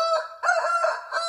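A human voice imitates a rooster's cock-a-doodle-doo in one short, clear crow, heard alone and close.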